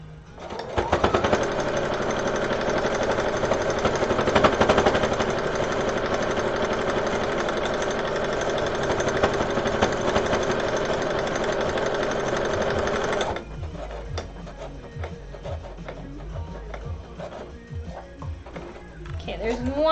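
Sewing machine stitching a fabric cuff with a needle that is getting dull, a loud steady whirring run for about thirteen seconds before it stops, leaving quieter handling noises.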